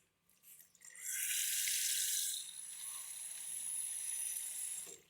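Tap water runs in a steady stream into a bowl of instant noodles being made for the microwave, a loud splashing pour lasting a few seconds before easing and stopping, with no talk.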